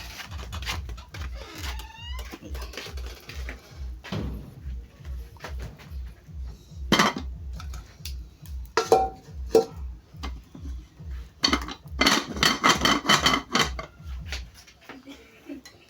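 Pots and dishes clanking while being washed in an outdoor mountain kitchen, a run of rhythmic metallic knocks followed by scattered clinks and scraping, close by, with bits of voice and birds in the background.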